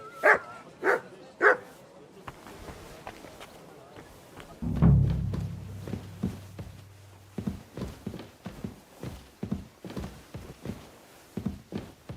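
A dog barks three times close by near the start, then short sharp sounds come in a rapid, irregular series, with a low rumble in the middle and a voice speaking once.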